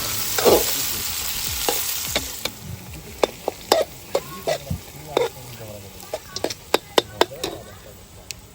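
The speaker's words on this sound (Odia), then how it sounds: "ବର୍ତ୍ତମାନ ପିଆଜ ପଡ଼ିଯାଇଛି।" Onions fry in oil in a pan for village chicken curry, crackling and sizzling steadily while a utensil knocks and scrapes against the pan in a quick run of sharp taps, with a voice briefly heard.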